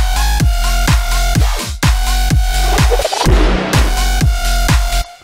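A Serum synth patch with a touch of plate reverb plays as a loud, buzzy, rhythmic electronic sequence of repeated pulsing notes with heavy low end, alone with no voice.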